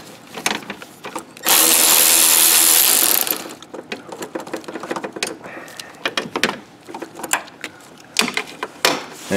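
Ratcheting tool working a 7mm hose clamp on a Volvo's throttle ducting, close by: a loud continuous whirr for about two seconds, then a run of rapid clicking and clattering bursts.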